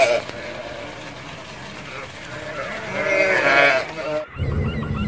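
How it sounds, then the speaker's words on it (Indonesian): Sheep bleat among farm animals outdoors, a few wavering cries rising over background noise, loudest toward the middle before a brief pause and a burst of closer sound. "di sini kita menemukan domba biri-biri."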